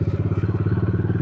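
A motorcycle engine chugs close by in a brief, steady burst of rapid, evenly spaced thumping pulses.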